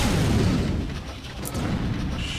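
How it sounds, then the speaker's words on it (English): Missile launch and explosion in the video game Mechwarrior 3: a heavy, rumbling boom at the start that fades, then a second lower burst of blast noise, heard up close. "Missile launch detected."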